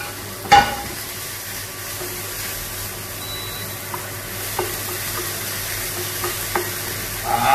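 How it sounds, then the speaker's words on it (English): Onion and garlic sauté in olive oil for a Napoletana sauce, a close, even sizzle with a sharp utensil knock early on and occasional light taps. "olive oil, garlic and onion is heavenly. And we saute it before we put in the concassate tomatoes"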